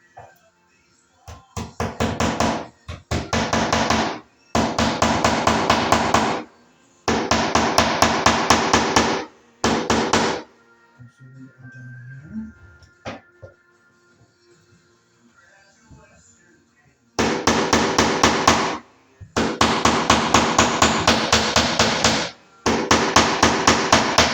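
Bursts of rapid, loud hammer blows drive plastic cable staples into a wooden stud during wiring work for a 120 V GFI receptacle, with a quiet pause and faint handling in the middle before hammering resumes.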